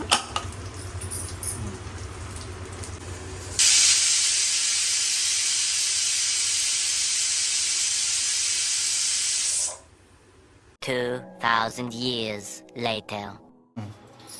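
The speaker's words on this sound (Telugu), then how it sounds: "మూత పెట్టేసి ఒక ఫైవ్ విజల్స్ పెట్టుకుంటే కొబ్బరిపాల చికెన్ బిర్యానీ రెడీ అయిపోతుంది" A pressure cooker of coconut milk chicken biryani lets out a loud, sustained steam whistle and hiss lasting several seconds, then goes quiet before a person starts talking.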